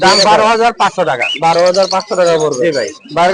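A five-month-old male conure parrot, DNA-sexed, calls at a crowded Mirpur bird market in a series of loud, harsh, wavering squawks and chattering cries broken by brief pauses.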